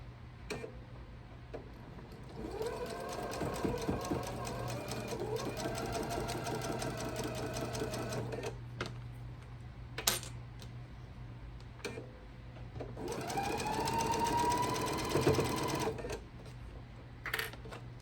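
A sewing machine stitches a quilt block in two long bursts of fast, steady mechanical chatter, separated by quiet pauses with a few clicks, heard close with a low background hum.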